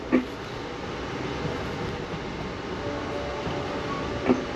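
Amtrak passenger train riding the rails, a steady close rumble inside the car with faint rhythmic clicks of wheels over rail joints and two brief knocks near the start and end.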